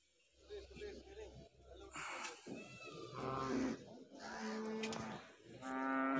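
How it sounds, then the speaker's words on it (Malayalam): Cows at the Kattuputhussery cattle market, several close moos and lowing calls rising one after another over crowd noise, with people talking in the background. "ഒരുപാട് പശുക്കൾ വന്നിട്ടുണ്ട് ഈ ആഴ്ച."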